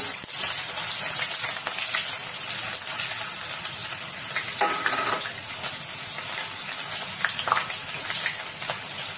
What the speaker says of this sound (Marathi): कांदा भाजताना ना तेलामध्ये आपण तळून भाजून काढतो